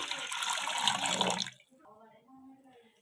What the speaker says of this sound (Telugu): ఇందులో కొద్దిగా వాటర్ అనేది యాడ్ చేసుకోవాలి